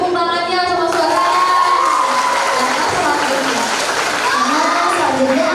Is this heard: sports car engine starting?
no